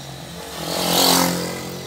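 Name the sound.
motorcycle passing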